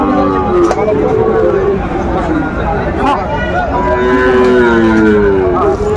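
Sahiwal bull calves mooing at a Faridpur livestock market, several drawn-out low calls overlapping through a steady crowd hubbub and chatter, fairly near and continuous.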